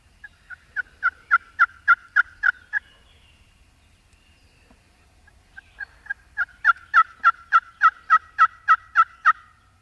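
Wild turkeys gobble from the edge of a field on a New York spring turkey hunt, two loud rapid bursts of rattling gobbles separated by a quiet pause, fairly close and clear.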